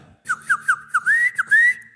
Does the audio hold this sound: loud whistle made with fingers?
yes